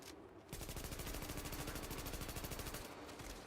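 Rapid automatic gunfire from the PC game The Division during a boss fight, a dense, loud, evenly spaced burst of shots lasting about two and a half seconds before cutting off.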